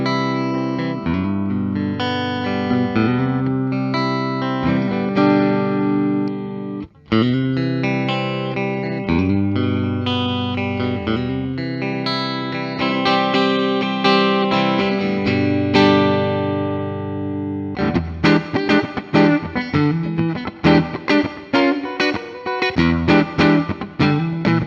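A 2022 Gibson Les Paul electric guitar on its neck pickup plays sustained chords and melodic lines with effects, warm and full, ending in a run of rapid, choppy strummed chords; no talking.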